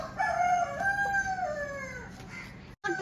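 A rooster on a home compound in Lakshadweep crows once, a loud, close, drawn-out call lasting about two seconds, then cuts off abruptly into silence before faint background noise returns.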